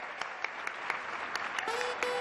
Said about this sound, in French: Michelle Obama, très applaudie.